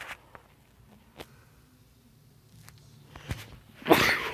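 A single person's sneeze bursts out sharply near the end, after a few seconds of faint clicks and taps.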